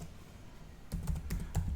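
Keystrokes as a Linux command is entered on a computer keyboard: silence for almost a second, then a quick run of close, crisp clicks in irregular rhythm, with no talking.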